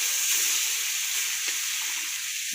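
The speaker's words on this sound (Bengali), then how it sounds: "মাছগুলা ভাজা করব।" Fish fry in hot oil with a steady, loud, close sizzle and hiss that continues without a break, with no voices.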